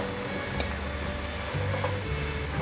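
Enoki mushrooms and carrots being stir-fried in a pan, a steady close sizzle with faint scraping and tossing sounds over a few seconds.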